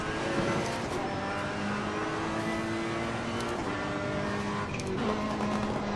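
Race car engine drones steadily in the Assetto Corsa Competizione sim game, with sustained tonal whine and small pitch shifts as the car is brought up to temperature; loud and continuous, no speech.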